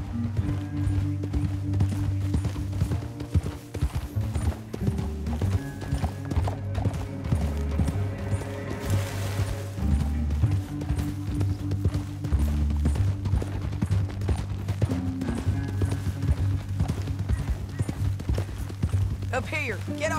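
Steady clip-clop of horse hooves at a running pace, with a neigh, beneath continuous talking and music, in the video game Red Dead Redemption 2.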